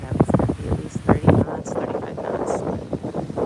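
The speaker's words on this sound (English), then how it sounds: "Quite a wind here." Strong, gusty wind blows outdoors beside choppy water with whitecaps, making a loud, uneven rumble and buffeting that rises and falls throughout, with a voice talking over it.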